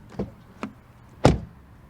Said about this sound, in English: Then door closing sound.